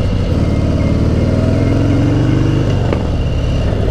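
A 2018 Harley-Davidson Sport Glide motorcycle being ridden on a test track: a loud, close, low-pitched V-twin engine rumble that holds steady and then climbs in pitch as it accelerates, with no talking.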